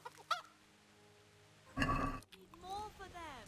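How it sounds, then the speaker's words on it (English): Chickens in the medieval video game Kingdom Come: Deliverance give a short burst of clucking and squawking, preceded by a brief call and followed by a voice speaking. "Chickens!"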